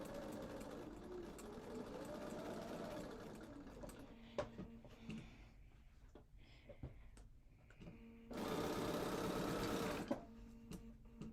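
A sewing machine stitches a quilt block seam along a quarter-inch line, running in a steady close whir with a brief stop and a louder burst near the end, with light handling clicks between runs.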